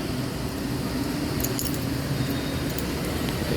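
Coins drop into a machine with a quick cluster of light metallic clinks and jingles midway, set against a steady low mechanical hum and rumble.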